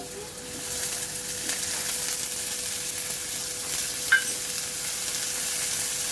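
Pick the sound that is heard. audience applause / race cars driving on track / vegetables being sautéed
vegetables being sautéed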